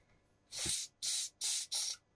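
Switch cleaner sprays into the switches of a Hacker Sovereign RP18 radio in four short, close hissing bursts, the first slightly longer, with near silence between them.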